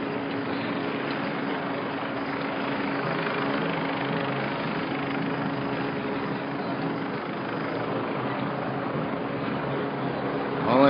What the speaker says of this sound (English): All I know is that chopper is annoying, and it's definitely watching us.